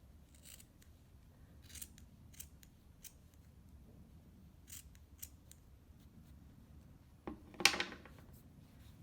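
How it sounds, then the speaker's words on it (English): Scissors make a series of short, crisp snips while trimming yarn close to a pin on a pom-pom pin. The quiet cuts repeat at irregular intervals and end in a louder clatter. "I actually like to trim the yarn close to the pin here"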